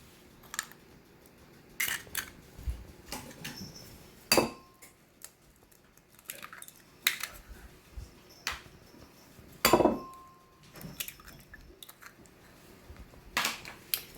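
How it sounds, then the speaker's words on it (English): Eggs are cracked into a small bowl: sharp clinks and taps against the rim arrive in scattered bursts across a quiet kitchen, close and fairly crisp, with no talking. "We're going to crack 3 eggs in the bowl, and then we're going to put that into our large bowl."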